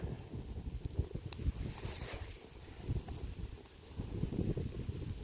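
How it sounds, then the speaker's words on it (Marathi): Strong wind gusts across an outdoor cooking spot by a wood-fired stove, a steady low rumble of buffeting against the microphone that swells and dips over a few seconds, with no voices. "असा वारा सुटलाय लय जोरात"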